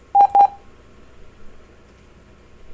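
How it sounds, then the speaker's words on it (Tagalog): Two short electronic tones sound in quick succession on an engine simulator display, clean and fairly loud, followed by quiet background hum with no talk. "now you will hear an alarm"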